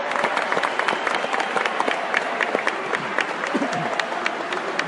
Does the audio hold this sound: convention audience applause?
yes